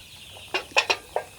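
Chickens cluck in a short burst of four or five sharp, close calls recorded at night, with no talking.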